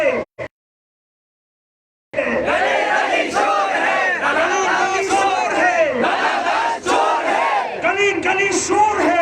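A crowd at a Bangladeshi protest rally chants slogans in Hindi, many voices shouting together in a loud, rhythmic call-and-response after a brief pause, sustained and close.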